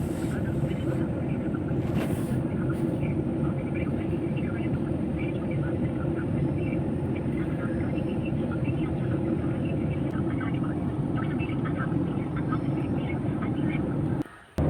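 Steady, loud drone of an airliner cabin while cruising at altitude over the sea on a flight to Port Blair. The broadband engine and air roar runs unbroken and even through the whole stretch.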